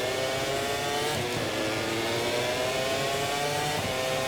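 Racing motorcycle engine on the Catalunya circuit in the MotoGP 24 video game, a steady loud droning whine held at high revs through a corner with no pause.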